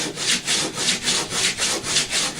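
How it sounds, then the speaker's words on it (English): Rhythmic back-and-forth hand sanding of wood on an RC plane being recovered, about nine even strokes, close and steady with no talking. "just sand it down to where you got a smooth surface on everything"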